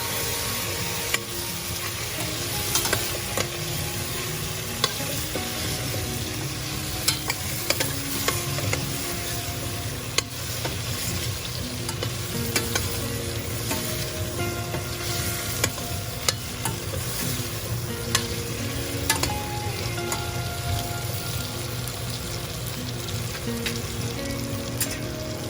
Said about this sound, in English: as the potato is cooking and frying a little bit, the turmeric will also add to the color.